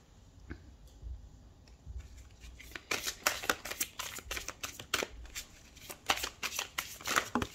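Tarot cards being shuffled by hand in a rapid run of dry riffling snaps and flicks that grows busier partway through, close and fairly quiet, with no talking.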